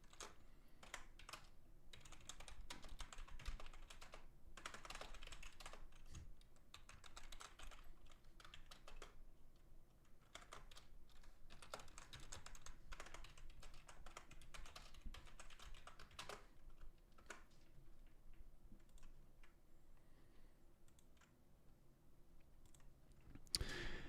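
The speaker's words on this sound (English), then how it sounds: "I'm going to type something here." Fingers type on a computer keyboard in a steady stream of quiet, close key clicks with brief pauses, recorded at low level with no talking.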